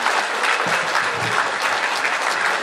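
A lecture audience breaks into steady, full applause, a dense wash of many hands clapping at even loudness throughout, with no voices on top.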